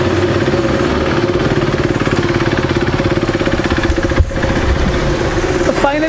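A KTM RC 390 motorcycle engine idles with a steady, thumping exhaust pulse, loud and close, holding an even rhythm throughout.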